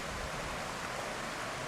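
A big spring on the upper Elk River boils up out of the ground with a steady close rush of churning water, brief and unbroken, with no voices.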